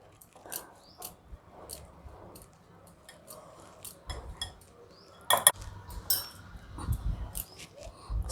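Onion pakoda batter is mixed by hand with oil in a bowl, giving close, irregular soft squishing and occasional sharp clinks and ticks against the bowl, with no talking.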